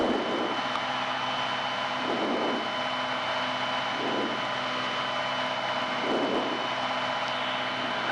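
Steady drone of a light training aircraft engine on landing approach, the pitch rising and falling in slow repeating swells as the throttle is adjusted, loud and continuous under a broad wind hiss.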